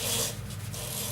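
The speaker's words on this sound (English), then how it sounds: "now I'm applying the paste wax finish to it" Soft, close rubbing of a cloth applying paste wax to a small Brazilian pepper tree wood vase, a brief swishing friction that dips quietly in the middle.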